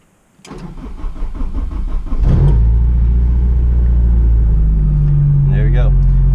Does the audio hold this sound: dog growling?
no